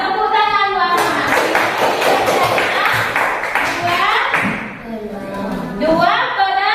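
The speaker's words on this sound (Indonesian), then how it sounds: "Tepuk tangan buat Muhammad" Students in a classroom burst into loud, sustained applause for a classmate who answered correctly. Dense clapping is followed by a teacher's voice speaking as the clapping fades.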